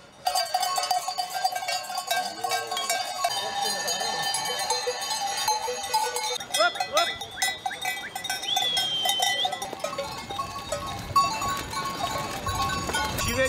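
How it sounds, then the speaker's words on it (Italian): Sheep, goats and donkeys on a spring mountain pasture, a dense chorus of clanking cowbells with scattered bleats, steady and close throughout. "Ma non ci sono solo pecore oggi? Eh no, anche capre e asini."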